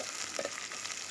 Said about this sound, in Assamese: তেল গৰম হোৱাৰ পাছত মই পিঁয়াজ দুটা কাটি ৰাখিছিলোঁ সেইখিনি এতিয়া ইয়াত দি দিম আৰু ভালদৰে লৰাই ল'ম